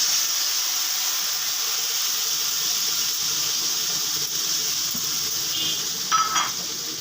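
A spice paste of salt, turmeric, Kashmiri red chili powder and coriander powder sautés in a pan for a pointed gourd dish, giving a steady close sizzle and hiss, with a brief squeaky stir near the end.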